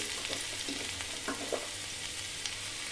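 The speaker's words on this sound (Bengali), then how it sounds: "তেলটা হয়ে গেছে, তেলের মধ্যে আমি রসুন কুচি দিয়ে দিলাম।" Chopped garlic sizzling steadily in hot oil in a pan after chicken has been fried, a dense continuous crackle with a few brief stirring clatters, close and with no speech.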